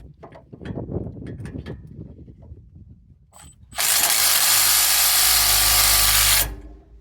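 Power tool tightening a bolt during a brake job on a 2008 Range Rover Sport HSE, clanks and handling noises first, then a loud, close burst of ratcheting whir lasting about three seconds before cutting off.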